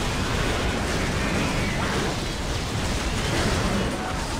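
A tank explodes amid battle in Warhammer 40,000 Dawn of War Soulstorm, a continuous loud rumbling blast and crackling debris noise filling the whole moment without pause.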